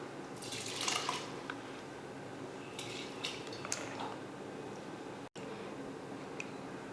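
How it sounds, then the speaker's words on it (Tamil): Water is drained from soaked rice in a kitchen while making tomato rice, giving a faint trickle and splash with a few soft clinks of a metal vessel, quiet and close. "இப்போ தண்ணியை வடிச்சிட்டு சேர்த்துக்கலாம்."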